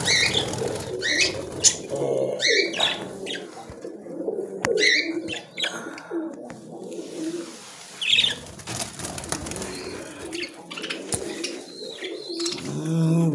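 Australian budgerigar parrots in an aviary chirp and chatter in scattered bursts, with wing flapping and rustling nearby and a steady background murmur throughout.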